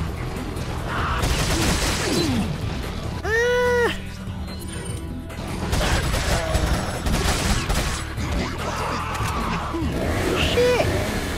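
Gunfire rattles in Resident Evil 4 Mercenaries in bursts across the clip, mixed with game effects and a voice talking over it.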